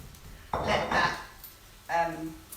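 Bacon tipped into a pan of softening onions and spring onions, giving a loud clattering, hissing burst of pan and utensil noise followed by a second shorter burst, with a brief voice-like tone near the end.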